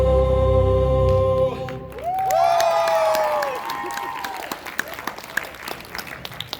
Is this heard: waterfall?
no